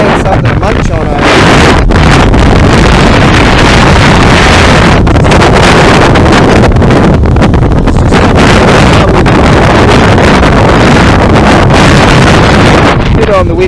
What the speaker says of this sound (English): Bit on the windy side.